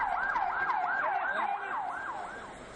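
An ambulance siren wails in a steady repeating up-and-down sweep at an airport attack scene, moderately loud and slightly distant, fading a little toward the end with no talk over it.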